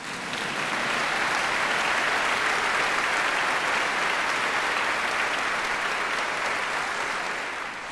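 Warm, steady audience clapping fills a hall at a humanitarian award ceremony for a museum founder, dense and even from start to finish before easing slightly at the close.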